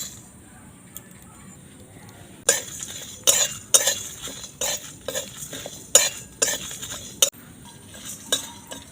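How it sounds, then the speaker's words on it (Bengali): Whole cumin, fennel seeds, four dried red chillies, black peppercorns and garam masala dry-roasting in a pan, with a series of sharp scraping stirs and clinks of a spoon against the metal, fairly close, over a quiet background with no talk. "এগুলো সব শুকনো করার মধ্যে দিয়ে নেড়ে নেব।"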